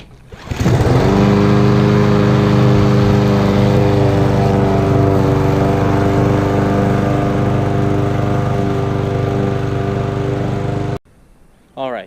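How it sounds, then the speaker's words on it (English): A repaired lawn mower, earlier starving for air, mowing a lawn: a loud, steady close-up engine drone that spins up quickly and holds an even pitch for about ten seconds before abruptly stopping. "finished up mowing the lawn, so that pretty much fixed it"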